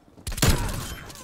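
A single sharp grenade blast in the shooter video game Call of Duty Black Ops bursts suddenly after a quiet moment and fades into a rumbling decay over about a second.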